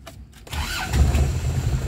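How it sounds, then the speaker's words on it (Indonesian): A 2000 Isuzu Panther diesel engine starts up nearby: a short starter crank is followed by the engine catching and settling into a low, rough, steady idle. "Sekarang kita nyalakan untuk mesinnya."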